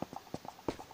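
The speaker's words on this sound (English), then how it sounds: "we are leading horses" Horses led along in a camping-themed video game clip-clop with quick, light hoof knocks in an uneven rhythm, several hits packed into under a second, close and fairly soft.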